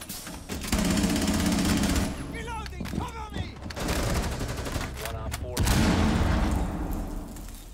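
Loud bursts of automatic gunfire in Rainbow Six Siege, with several sustained volleys separated by brief pauses and people talking between and over them.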